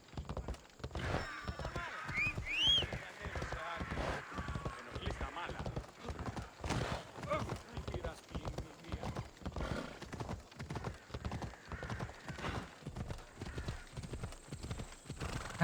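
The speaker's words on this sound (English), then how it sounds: "I think we can finally horse up." A horse's hooves clop at a steady, rhythmic gallop in Assassin's Creed Odyssey, loud and continuous, with a brief whinny early on and a voice talking over the hoofbeats.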